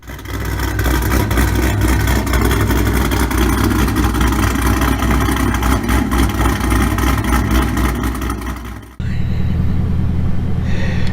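A car engine with a big cam idles with a loud, rough, rumbling lope for several seconds before cutting abruptly to a quieter hum.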